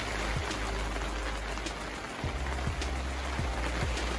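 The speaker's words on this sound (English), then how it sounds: "Can you hear the voice of rain? It's very loud, the rain." Heavy rain pours steadily and loudly, a continuous broadband hiss with occasional low thuds of drops striking a surface.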